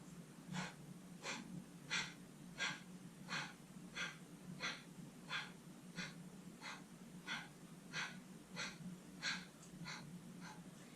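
Rhythmic breathing exercise with the navel drawn in, about sixteen sharp, evenly spaced nasal exhalations at roughly one-second intervals, close and moderately loud over a quiet background.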